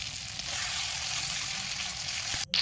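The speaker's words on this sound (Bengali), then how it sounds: "মাছের সঙ্গে মশলা আর মাছ দুটোই একসঙ্গে একটু ভাজা হয়ে যাচ্ছে" Fish pieces frying together with spices in hot oil in a home kitchen, giving a steady close hiss and crackle throughout, broken by one brief drop near the end.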